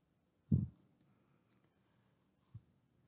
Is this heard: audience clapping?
no